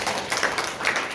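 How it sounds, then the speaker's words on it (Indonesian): A church congregation at a Sunday worship service claps hands in a brief, soft burst of scattered clapping. "Yuk, yang paham tepuk tangan dulu."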